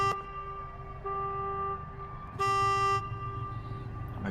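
A car horn blares in a Renault Clio Cup sim race on Kyoto's Yamagiwa layout, steady engine hum with a brief toot and then a louder sustained honk, no voices.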